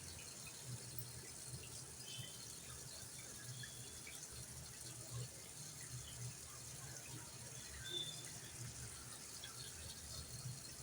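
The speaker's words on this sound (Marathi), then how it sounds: "असं एक दोनदा पाण्यातून काढली की भाजी स्वच्छ मिळते आपल्याला" Fenugreek leaves are rinsed in a bowl of water, giving a faint, steady wash of gentle splashing and trickling at low level throughout.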